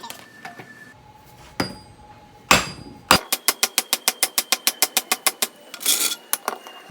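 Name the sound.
hammer smacking a half shaft into place on a car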